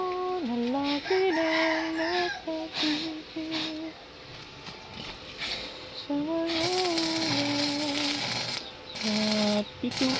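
Chickens cluck and a rooster calls repeatedly, close by, over a noisy busy background with bursts of broadband noise.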